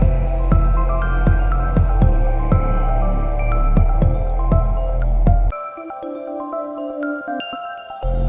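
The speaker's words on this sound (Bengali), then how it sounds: "মশলাটা কষানো হয়ে গেছে, এবার ঝোল দিয়ে দিতে হবে।" Liquid added to fried spice paste in a pan for shing fish curry: a loud close bubbling, popping sizzle with quick splatters, then an abrupt drop to a quieter hiss near the end.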